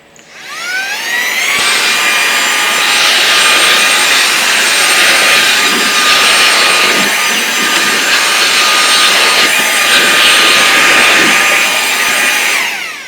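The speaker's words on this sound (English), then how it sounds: "I can't wait to clean off my whole surface on my table and vacuum the whole thing with this" A small vacuum tool sucks lint off a sewing machine, spinning up quickly into a loud, steady high-pitched whine that holds for about eleven seconds, with slight changes in tone as it moves, then cuts off.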